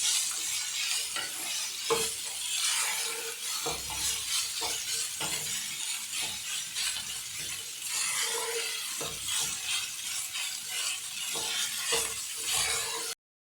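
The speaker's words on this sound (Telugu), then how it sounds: "తర్వాత ఇలా చితికిన ఇడ్లీతో ఈ తాలింపులో ఇలా వేసేసుకోవాలి" Mashed leftover idli is stirred into a sizzling tempering to make idli upma, with a continuous frying hiss under repeated scraping and clinking of a spoon against the pan.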